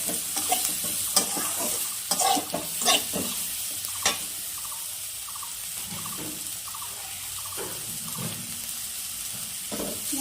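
Spice masala for a Bengali tengra fish curry, chili powder and salt, being stirred and fried in a pan: a steady sizzle with repeated scraping strokes of the spoon, close and moderately loud, no talking.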